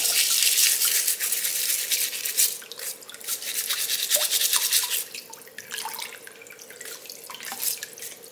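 A brush scrubs the shell of a raw blue crab, a steady bristly rasp with short strokes under running tap water and drips from a sink, close and fairly loud throughout.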